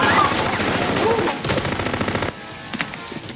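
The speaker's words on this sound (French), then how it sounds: "urgence, demande renfort pour fusillade" Action-film shootout gunfire: rapid automatic bursts ring out loud and dense, then break into scattered shots with quieter echoing pops.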